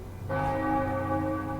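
Bell rung at an altar in the video game Baldur's Gate II, a single clear, resonant strike that rings on and sustains evenly, close and moderately loud, with no voices.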